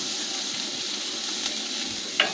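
Taro stems frying in oil in a covered pan over low heat give off a steady, soft sizzle that runs throughout, with a faint stir or clink near the end.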